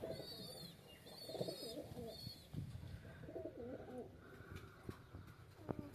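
Pigeons of the Romer and Karna breeds cooing in a coop holding about nine pairs, soft repeated coos and a few chirps, faint and close, with light background noise throughout.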